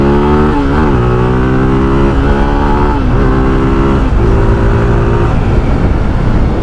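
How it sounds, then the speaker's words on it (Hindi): A Zontes 350R motorcycle accelerates hard, its engine loud and close, climbing steeply in pitch through gears with brief dips at each upshift, revving continuously without speech. "यहाँ पे आपको फिर से मैं बाइक खींच के दिखा देता हूँ"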